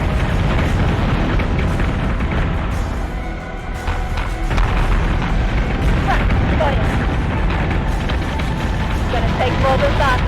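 Ship weapons fire in the space combat game Battlestar Galactica Deadlock, heavy booming thuds and rumbling blasts rolling continuously over a dense, loud battle bed with voices underneath.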